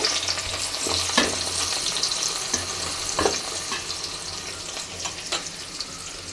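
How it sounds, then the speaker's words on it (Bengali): Chopped onions fry in hot oil in a pot, giving a steady close sizzle with several soft stirring scrapes and clicks, no voices present. "প্রথমে আমরা একটা পাতিলে তেল গরম করে নিয়েছি তার মধ্যে দিয়ে দিব পেঁয়াজ কুচি"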